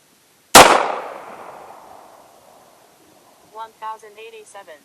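A single sharp, loud gunshot from a Heritage Barkeep revolver fired over a chronograph, with a long ringing decay outdoors, followed by someone speaking briefly.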